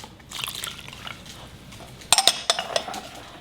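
Water is poured into a bowl already holding soy sauce and brown sugar for a stir-fry noodle sauce: a short, soft pour followed by a few sharp clinks of the bowl and utensils, close by with no talking.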